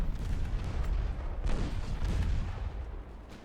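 Battleship guns firing in the naval warfare game Ultimate Admiral Dreadnoughts, a continuous rumble of overlapping deep booms with a heavier salvo midway, loud and dense, fading slightly at the end.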